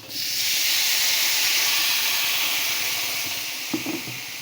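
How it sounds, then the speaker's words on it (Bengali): Water poured into a hot pan of fish curry with papaya, turmeric and green chillies sets off a loud, sustained steam hiss that slowly fades, followed by a couple of faint clinks near the end. "এই যে বেশ খানিকটা জল দিয়ে দিয়েছি, পাতলা ঝোল হবে।"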